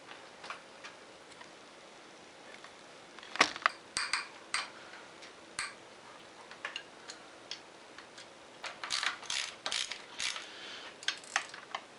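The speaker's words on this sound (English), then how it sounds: "Loosen this drain bolt on the side, take it out." Wrench work loosening the drain bolt on the side of a motorcycle front fork whose oil was left unchanged for 40 years, with sparse close metallic ticks and ratcheting clicks over quiet shop background.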